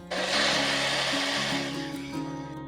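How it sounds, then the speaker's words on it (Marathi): Mixer grinder whirring as it blends mango pulp for Maharashtrian aamras, a steady loud motor drone with a shifting hum that runs for the whole stretch, close by, with no talking. "चला आता मिक्सर मधून काढून घेऊ"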